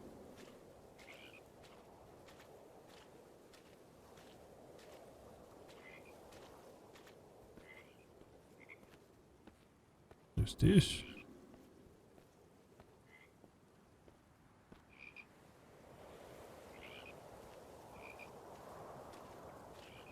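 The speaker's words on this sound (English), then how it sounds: "The frogs give it away." Frogs croak steadily in a swamp scene in the video game Purpose 1951, repeated calls at a fairly even rhythm over a low ambient bed, with one brief loud thump midway and a few quiet spoken words.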